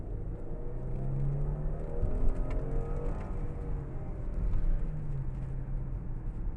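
A 2013 Mercedes-Benz ML350 accelerates on a test drive, its engine note rising in a steady in-cabin hum with road and tire noise underneath, no speech.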